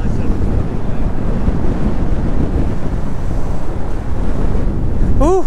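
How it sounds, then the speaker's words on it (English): Strong wind buffets the microphone on a fishing pier, a loud continuous roar mixed with surf-like rushing that holds steady throughout, with a brief tonal squeal near the end. "This wind is bonkers,"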